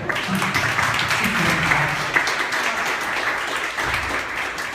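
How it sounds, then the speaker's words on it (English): An audience applauds steadily for several seconds, a dense wash of clapping with no breaks. "Give her a round of applause"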